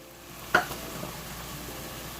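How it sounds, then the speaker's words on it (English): Minced onion and mixed vegetables hit hot oil in a pot for spiced rice, giving a brief clatter and a faint, steady sizzle that carries on quietly without any voices. "I'm going to be adding my onion that's been minced, my mixed vegetables,"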